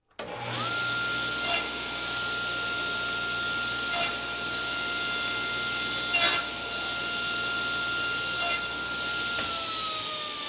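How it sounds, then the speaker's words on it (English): A table saw runs with a steady high whine throughout, the blade making short repeated cuts through small clips about every two seconds, close and loud with no talking. "now I can turn my table saw blade on and cut as many of these little"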